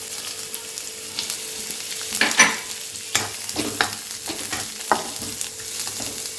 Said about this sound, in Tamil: நம்ம நறுக்கி வச்சு வெங்காயத்தை போட்டுடலாம்.